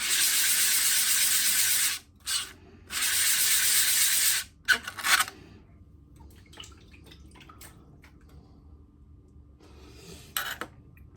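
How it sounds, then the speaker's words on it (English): Thin section slide of NWA869 meteorite rubbed on abrasive grit, giving two steady broadband scraping bursts of about two seconds each, separated by a brief pause, then quieter scattered scrapes and taps. "I rub it for a couple of seconds, then I rotate the slide, then rub another couple of seconds"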